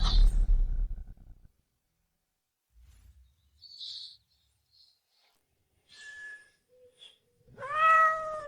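A cat gives a few short meows and finishes with a louder, drawn-out harmonic meow, separated by quiet gaps after an opening burst of rustling noise.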